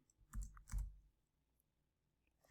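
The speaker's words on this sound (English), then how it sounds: "Let's type in the input field," Quiet clicking of a computer keyboard as text is entered into a search field, two short bursts of keystrokes close together, then near silence.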